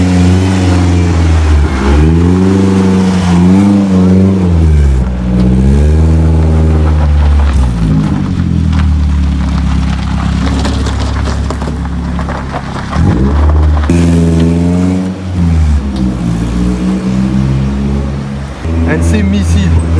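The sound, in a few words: BMW E36 drift car engine revving, test drive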